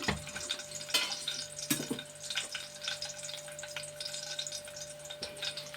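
Ladle of oil being poured into a hot pan while making gongura chutney, a steady close sizzle and crackle of hot oil with a few sharper clinks of the ladle against the pan.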